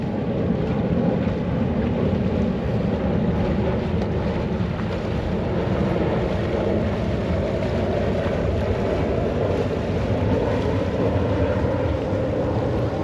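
A boat on open sea water runs as a steady, continuous drone with a low engine rumble, wash and wind buffeting the microphone, loud and unbroken throughout with no talk.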